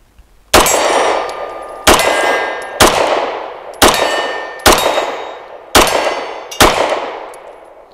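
A BUL Armory EDC pistol fires seven shots at steel targets, each a sharp crack followed by a ringing metallic clang that decays, spaced about a second apart, loud and close with no voices.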